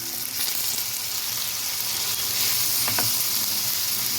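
Steady, dense sizzle of tomato frying in a hot pan while it is mashed for aloo dum biryani, with a few faint scraping clicks over a constant hiss.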